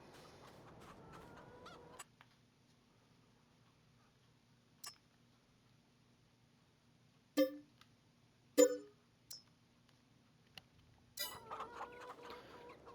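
Chickens in Farming Simulator 22, around 50 birds in two pens, cluck in a few sharp, separate bursts over a quiet low game hum, with busier farm sounds at the start and end.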